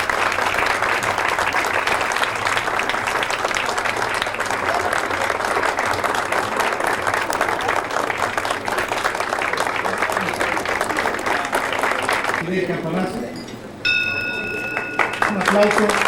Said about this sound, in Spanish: Por hacer un aplauso.